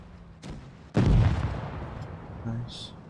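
A single heavy cannon blast from the Obj. 268 tank in a video game, preceded by a softer thud and followed by a fading low rumble.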